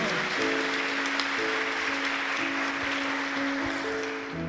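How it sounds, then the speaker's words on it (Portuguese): A church congregation applauds loudly during a sermon, a dense, steady clapping that fills the room for the whole stretch, with sustained musical tones running underneath. "Não, aplaude forte"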